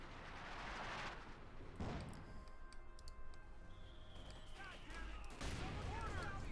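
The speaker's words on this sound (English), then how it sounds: "Almost wiped out the Sturmpaniers by that mortar." Mortar fire landing on Sturmpionier infantry in Company of Heroes 2: a muffled explosion and scattered battle noise with faint ticking and distant gunfire, all low in level beneath a continuous soundscape.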